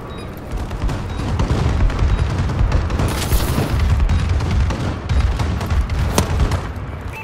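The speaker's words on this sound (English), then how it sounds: "Friendly bombing run clearing the way." A friendly bombing run and missile strikes in Call of Duty make a dense, continuous barrage of loud booms and rattling gunfire layered over a deep rumble, with no breaks in the din.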